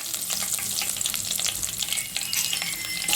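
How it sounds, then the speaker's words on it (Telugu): Mustard seeds, cumin, dried red chillies and curry leaves temper in hot oil that already holds fenugreek. A loud, dense crackling sizzle spatters continuously up close, with no pauses and no voices. "ఆవాలు జీలకర్ర రెండు వెండి మిరపకాయలు వేసాను కరివేపాకు వేసాను"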